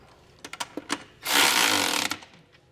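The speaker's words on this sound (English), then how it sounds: "we'll take our 19mm and tighten these down" A 19mm wrench tightens trailer hitch bolts on a 2023 Kia Telluride, with a few quick metallic clicks followed by a sustained close ratcheting rasp for under a second, then a final click.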